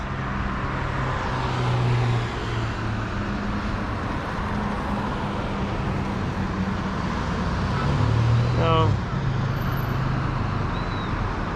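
Steady morning road traffic on a Guyana roadway, with cars and buses rumbling past continuously at close range and one vehicle sweeping by loudly near the end; a single brief word is spoken over it.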